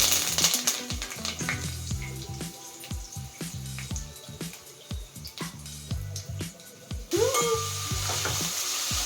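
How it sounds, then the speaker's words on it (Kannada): Marathi moggu, cinnamon, cloves and curry leaves sizzle in hot oil for chicken sukka, a loud continuous crackle with repeated scraping and clinking of a utensil stirring the pan. "ಕರಿಬೇವು ಹಾಕೋತಾ ಇದ್ದೀನಿ."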